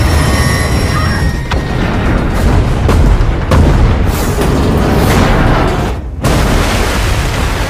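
Bombs blow up a bridge ahead of a train in a Tom Cruise action film: a loud, sustained roar of blasts and rumbling debris that fills the whole stretch, with a brief dip near the end before the din returns.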